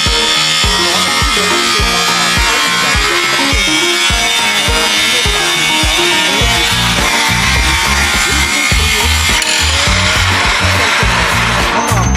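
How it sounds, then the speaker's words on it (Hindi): A 4-inch cordless brushless angle grinder running at close range, loud and continuous, with rhythmic grinding or cutting strokes throughout. "कॉर्डलेस ग्राइंडर, 4 इंच का कॉर्डलेस ग्राइंडर है।"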